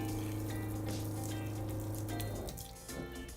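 A small onboard automatic pressurized water pump in a DIY shower system hums steadily at close range with running water, then cuts out on its own near the end, leaving a quieter trickle and drips.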